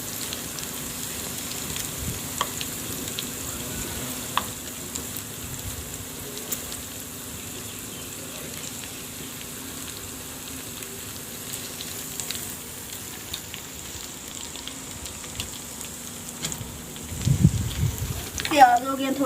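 Onions frying golden brown in a pan for lunch, a steady soft sizzling hiss that runs throughout with faint clatter near the end and no talk.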